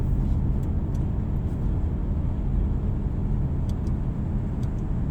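A 2019 Audi A6 cruising on adaptive cruise control, giving a steady, continuous low road and engine rumble from inside the car with no voices.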